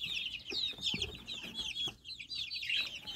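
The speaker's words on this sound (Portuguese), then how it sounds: "Tem pintinho de pescoço pelado." Naked neck chicken chicks peep and cluck continuously in a quiet setting, high repeated chirps close to the microphone with a few soft low thumps and no talking.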